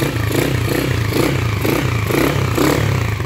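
A motorcycle with a worn spark plug cap and its kill switch removed turns over in a repair shop, the engine sputtering loudly and roughly in a steady series of repeated pulses.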